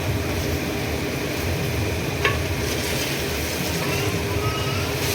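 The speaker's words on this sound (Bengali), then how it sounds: "এটা কষানো হচ্ছে" Colocasia being stirred and sautéed in a pan, with a loud continuous sizzle and the rhythmic scrape of a spatula and a single sharp clink partway through.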